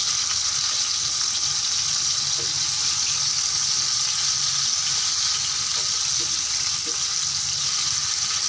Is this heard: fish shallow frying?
yes